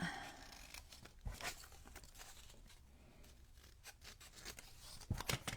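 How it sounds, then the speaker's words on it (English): Scissors snip through paper while making junk journal pages, a few quiet crisp cuts and crinkles against a soft background with no talking. "I'm probably just going to cut it with my scissors"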